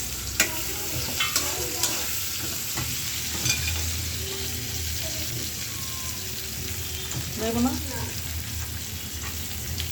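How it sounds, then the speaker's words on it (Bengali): Onions sizzling and frying loudly in a pan with eggs and bay leaf, steady crackle with occasional stirring scrapes, close up, a brief voice speaking over it. "তো পেঁয়াজগুলো ভাজা করে নিই"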